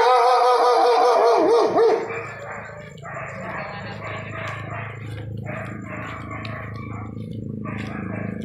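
A dog barks repeatedly nearby, a series of sharp yips and barks heard between and under people talking, after a brief loud vocal burst at the start.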